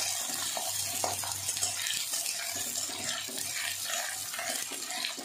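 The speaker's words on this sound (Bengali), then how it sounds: "পেঁয়াজটা আমি তেলে দিয়ে দিয়েছি" Chopped onions frying in oil with garlic in a home kitchen, a soft continuous hiss and crackle with occasional stirring scrapes.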